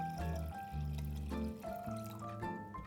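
Water poured into a pan for boiling in a kitchen, a few separate glugging pours with rising tones, close and fairly quiet, alone without talk.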